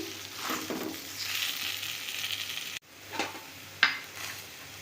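Mashed green banana fries in a pan with a soft, steady sizzle, broken by scraping strokes of a spatula and a sharp metallic clink near the end, heard close up.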